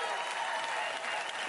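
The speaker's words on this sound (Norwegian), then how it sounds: "Og vi gir en stor applaus til Kari og Egor." Sustained applause fills the hall for a celebrity-amateur and professional pair after their romantic English waltz on a televised ballroom dance competition, a steady dense clapping crowd with no break.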